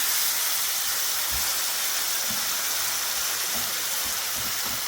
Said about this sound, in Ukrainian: цибулька злегка підрум'янилась, ось така красива вона, і додаємо окропу